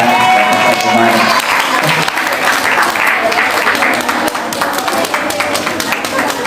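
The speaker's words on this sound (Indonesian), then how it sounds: "Kita beri tepuk tangan dulu untuk Ustaz kita." Sustained, loud applause from an audience of santri at a religious study gathering, dense steady clapping filling the whole stretch with a faint voice underneath.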